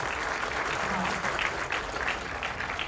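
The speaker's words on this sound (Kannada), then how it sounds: "ಚಪ್ಪಾಳೆ ಬರಬೇಕು ಸೌಂಡ್ ಕೇಳಿಸ್ತಿಲ್ಲ" Audience applause fills a stage event for a Kannada film launch, a dense, steady wash of clapping from a crowd that continues loudly and evenly throughout.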